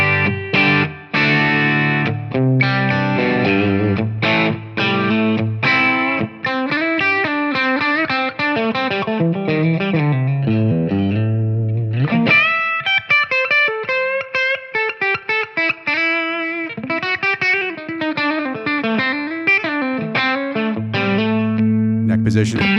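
Electric guitar through an amp with mild overdrive on the push channel's first gain level, neutral bright setting, playing a run of chords and melodic lines with some sustained notes, loud and continuous.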